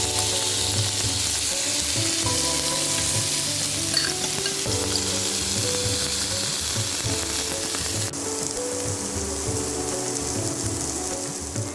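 Marinated potatoes with curry leaves frying in a pan over low flame, a dense, continuous sizzle and crackle at close range with occasional stirring scrapes, steady in loudness throughout, with no talking.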